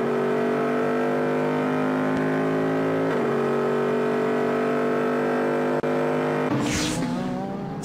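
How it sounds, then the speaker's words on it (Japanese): Super GT GT300 race cars at Okayama, a turbocharged Nissan GT-R and a Toyota Supra, hold a loud steady engine note under acceleration, with a sharp shift in pitch near the end. "ストレートでは離されてしまうスープラ、それはターボエンジンの GTR の加速の方が勝っているからだ。"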